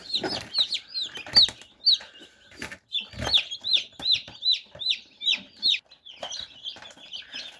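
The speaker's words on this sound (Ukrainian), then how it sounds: "Зранку я привідкрив інкубатор, коли ще було світло, курчата почали вилуплятися" Newly hatching chicks in a home incubator give rapid, repeated high-pitched peeps, close and fairly loud, with a few knocks and thumps between the calls.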